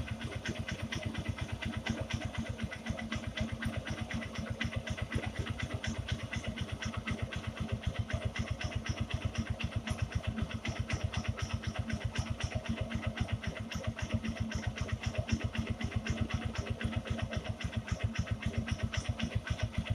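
A 2019 Honda Shine SP motorcycle engine idles during carburetor adjustment, a close, steady rapid thumping pulse that holds an even rhythm throughout with no talking.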